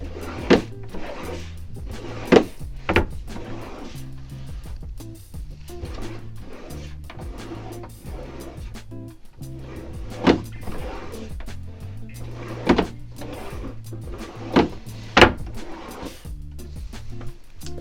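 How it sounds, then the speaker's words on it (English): Drawers of an IKEA Billy bookshelf sliding in and out on their rails without wheels, giving repeated sharp knocks and scraping slides at irregular intervals against a low, steady background hum. "I'm trying to put in the drawer and see how it functions"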